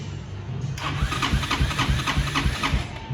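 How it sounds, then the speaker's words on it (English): A go-kart buggy engine cranks on a jump pack because its battery is dead, catching after a moment and running in a loud, close, steady chug with no talking. "See if it even cranks."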